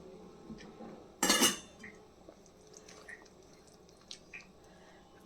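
Already-fried vegetables tipped into a pan of white sauce pasta land in one short, loud clattering burst near the start, followed by faint scattered clinks and scrapes of a utensil against the pan.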